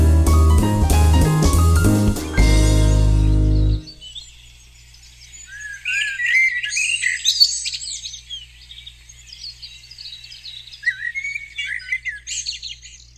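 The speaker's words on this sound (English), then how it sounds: "There's a bit of a cacophony of bird sounds there." Several birds call and sing together after an opening stretch of loud music, with varied whistled chirps and warbles that may include a grey butcherbird's song, moderately near, with no talk.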